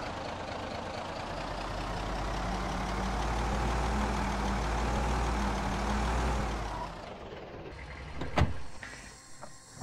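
A car engine runs in the Project Zomboid video game, a low steady rumble that drones for several seconds, then cuts out, followed by a few sharp clicks in relative quiet.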